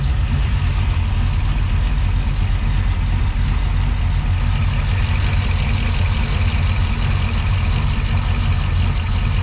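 An LS V8 engine swapped into a Volkswagen Beetle idles steadily with a deep, even low rumble and no break in the sound.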